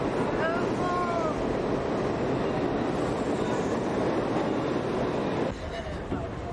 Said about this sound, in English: We are rolling on the subway.